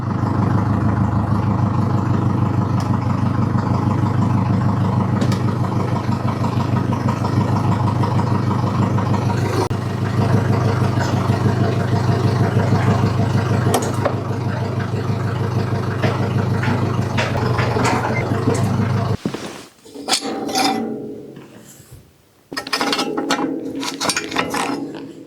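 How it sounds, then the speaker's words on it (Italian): A SAME Dorado tractor's hydraulic lift raises an implement with a steady mechanical whirr and engine drone that runs continuously, then cuts off into a few short irregular clunks and bursts near the end. "quindi azioniamo il sollevamento del trattore"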